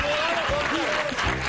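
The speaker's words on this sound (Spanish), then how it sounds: "Un aplauso grande para Pablo Posca." A television studio audience applauds for a guest comedian, a brief steady wash of clapping under a voice speaking over it.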